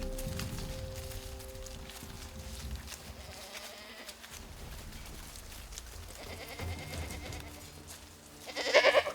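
Pack goats on an elk bowhunting trip bleat outdoors, faint and distant at first, with a louder, closer cry at the very end.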